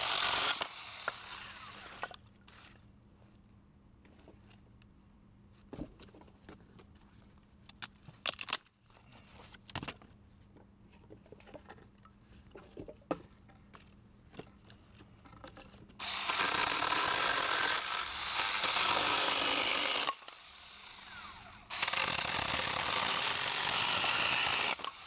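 Cheap cordless mini chainsaw cutting through clamped wood, quieter clicks and handling at first, then two loud sustained buzzing cuts of several seconds each, close by.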